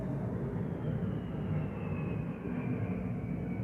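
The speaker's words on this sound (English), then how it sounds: "jet just flew over my house" A jet flying over a house near Moody Air Force Base in Valdosta, heard as a steady, broad, distant roar that holds evenly across the whole stretch with no talking.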